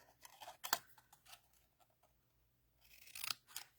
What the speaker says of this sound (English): going to use my snips. So I'm just going to cut this to basically the height and the width of the words.